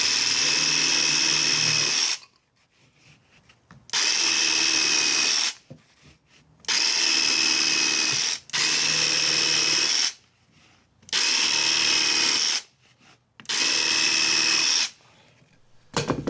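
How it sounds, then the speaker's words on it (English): Black & Decker 20V cordless jigsaw cutting wood stakes in six loud buzzing bursts of roughly one to two seconds each, separated by short quiet pauses, with no voices. "let's try the jigsaw on some wood stakes."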